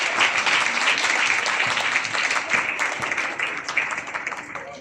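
Applause from a church audience at a Christmas and New Year ceremony thanking the pastors on stage, a dense sustained clapping that fades slightly toward the end.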